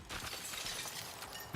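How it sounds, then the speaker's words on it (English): Glass smashing in the video game Marathon, a dense burst of shattering and crashing debris that fills the whole moment, loud and close with no talking. "still a bit more glass to smash"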